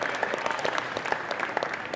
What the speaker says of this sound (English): And a little applause here